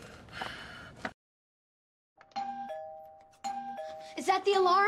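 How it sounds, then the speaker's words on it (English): A doorbell chimes with clear repeated ding-dong tones, first alone and then with a breathy voice and gasps layered over it. "The doorbell won't stop ringing."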